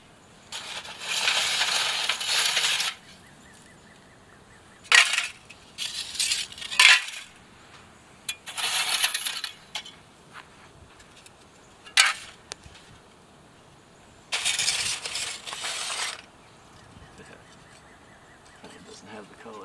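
Thin pieces of iridescent bamboo charcoal snapped by hand, giving bright, brittle crackling bursts with a glassy, clinking edge, several separate breaks close up, with a person speaking between them.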